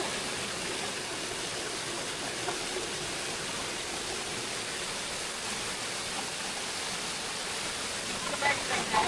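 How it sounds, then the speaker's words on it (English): Steady, dense roar of a waterfall in the Brecon Beacons, Wales, heard from just inside it, loud and continuous, with no voices over it. "Just inside our second waterfall of the day."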